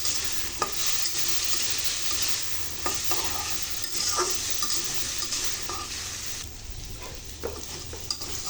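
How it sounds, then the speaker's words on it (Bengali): Chopped vegetables stirred and fried with salt in a pan, a steady close sizzle with repeated scraping strokes of a spatula at irregular intervals, loud and continuous with no talking. "কিছুটা লবণ দিয়ে আমি নেড়ে চেড়ে ভেজে নেব"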